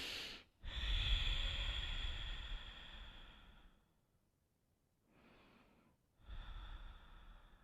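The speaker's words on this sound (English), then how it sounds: "Now breathe, inhale, exhale, and just relax into it." Deep breathing during a pregnancy pilates stretch: a long, loud, close breath with a hissing rush, a pause, a softer shorter breath, then another strong breath. No one speaks.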